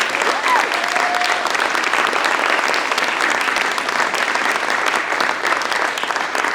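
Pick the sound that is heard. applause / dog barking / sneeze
applause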